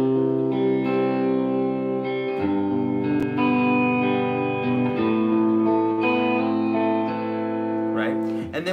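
Clean electric guitar tone played through a Boss Katana amp, sustained chords ringing with a slight chorus shimmer and some reverb, fairly loud and close, alone without talk.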